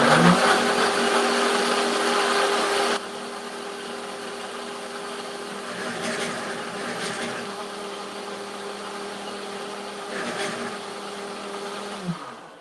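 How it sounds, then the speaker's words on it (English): A Ninja blender whirs loudly as it mixes a thick chocolate pumpkin pie shake with oat milk, steady and close, dropping to a lower, quieter hum after about three seconds and running on to the end. "This is a Ninja blender here."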